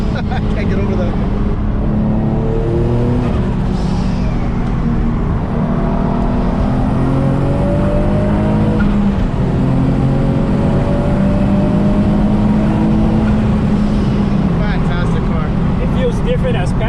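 A twin-turbo Infiniti G35 coupe engine making 570 hp hums steadily while driving, rising in pitch as it accelerates and shifts, with road noise underneath.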